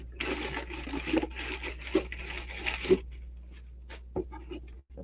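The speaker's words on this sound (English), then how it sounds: "this package that I'm unwrapping right now came from Ghost Stop" Someone unwrapping a shipped package of gear, several bursts of close crinkly rustling and tearing, then scattered small handling clicks and taps.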